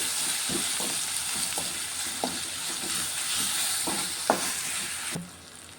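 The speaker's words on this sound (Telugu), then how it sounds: "ఆనియన్ ఫ్రై అవుతున్నాయి నేను ఇప్పుడు అందులో అల్లం వెల్లుల్లి పేస్ట్ వేసుకున్నాను కొంచెం పసుపు వేసుకున్నాం ఇప్పుడు కలిపేసుకున్నాం ఒకసారి" Onions sizzle steadily in a pan with ginger garlic paste and turmeric, a continuous frying hiss punctuated by several soft scrapes and knocks as the mixture is stirred, close and fairly loud, ending abruptly.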